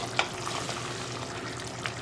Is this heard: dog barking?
no